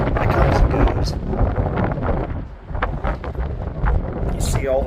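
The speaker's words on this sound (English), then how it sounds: "Sorry about all the wind, by the way. It's very, very windy up here today." Strong, gusting wind at the Gettysburg battlefield buffets the microphone in loud, continuous roaring bursts that ease briefly midway and then surge again.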